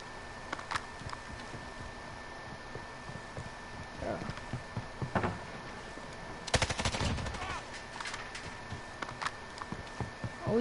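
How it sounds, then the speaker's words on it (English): Gunfire in the Warzone video game: scattered distant shots, then a dense close burst of rapid automatic fire in the middle, with more sporadic shots afterward and faint keyboard clicks. "I'm about to shoot through walls now."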